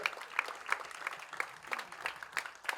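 Applause from the audience at a film trailer launch event, fairly quiet and distant, with sharp individual claps standing out at a steady pulse over a soft crowd wash.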